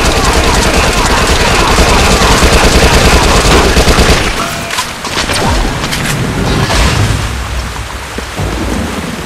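Rapid submachine gun fire in the video game Dead Nation: a dense, continuous loud barrage for about four seconds, then slightly quieter bursts and rattling continue to the end.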